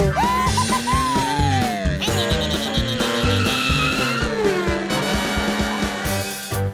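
A toy car scene with tires squealing and skidding over a steady engine drone, loud and continuous with sliding pitch sweeps, backed by music and no talk.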